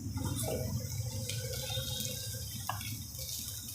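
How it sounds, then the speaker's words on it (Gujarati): Water trickles and splashes faintly into a spoonful of cornflour in a home kitchen, a thin steady pour with small drips over low background hum. "એક ચમચી કોર્નફ્લોર લીધો છે મેં એમાં આપણે પાણી નાખશું પટલી સ્લરી બનાવવાની"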